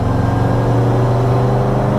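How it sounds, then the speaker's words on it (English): A supercharged 1970 MGB GT with a five-speed Miata gearbox revs under load: a loud, steady, close engine drone with strong low harmonics, heard from inside the car for about two seconds. "You get something for your revving."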